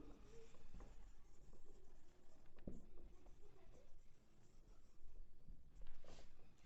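A sentence being written during a Class 6 English revision lesson, a quiet, continuous scratchy rustle of pen or pencil strokes with occasional soft taps, close and low in level.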